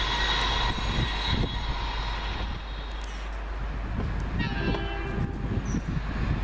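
A Super Voyager diesel train runs through Coseley station on a late-running cross-country service, a steady loud rumble with engine drone throughout and a faint higher whine near the end.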